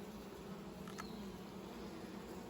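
Honeybees buzz during an out-apiary hive inspection, a steady low hum from many insects with no talk over it.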